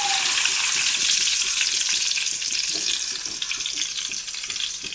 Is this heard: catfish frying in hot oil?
yes